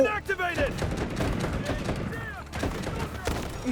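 Shotgun blasts in the shooter game Delta Force, close and punchy, a few sharp reports over about four seconds amid a busy mix of game noise while someone talks excitedly over the action.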